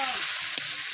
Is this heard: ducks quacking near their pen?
no